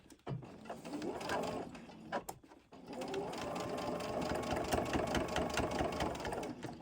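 A sewing machine stitches over fabric while making a chapstick holder, with a short burst of whirring, a brief pause, then a longer steady mechanical hum and rapid needle chatter close by.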